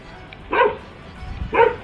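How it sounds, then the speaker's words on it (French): A dog barks twice, about a second apart, moderately loud and a little distant, with quiet background in between. "Il y a toujours un vieux chien qui aboie ici."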